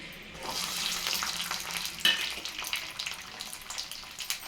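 Crackling sizzle of small shallots frying in hot oil for tempering fish curry, steady and close, with a sharp pop partway through.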